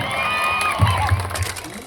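An audience at a stage music event cheers, shouts and whoops for a performer, a loud, dense crowd roar that swells with a few sharper bursts of shouting.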